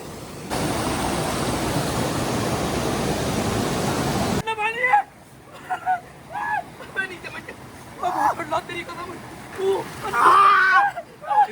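Water pours and splashes at Kimadi waterfall near Dehradun and Mussoorie. A loud, steady rushing roar fills the first few seconds, then cuts away to quieter water under people talking.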